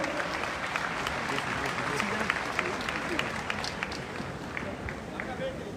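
An audience at a World Navkar Mahamantra Day event applauds to welcome the chief minister, Mamata Banerjee, with steady, dense clapping running the whole time beneath a murmur of crowd noise and voices.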